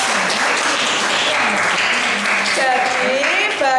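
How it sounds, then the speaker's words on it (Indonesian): Children clapping together in a school classroom, a busy burst of applause mixed with young voices calling out over it throughout. "Tepuk tangan anak-anak."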